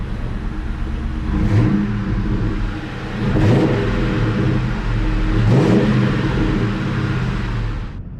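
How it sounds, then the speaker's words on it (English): A 2003 Ford Mustang GT V8 fitted with a Magnaflow exhaust, heard at night in three loud, close revs. Each blip rises and falls about two seconds apart over a deep, steady rumbling idle. "Let me give it a little rev."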